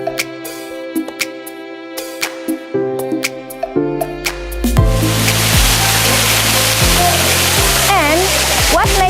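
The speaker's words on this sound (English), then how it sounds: "the water falls through a black rock cliff that is staggered, so that the waterfall does not cause heavy splashes" Kantolampo waterfall in a North Bali village spills over a staggered black rock cliff, a steady loud rushing wash that swells in partway through after quieter tonal sounds, continuing unbroken to the end.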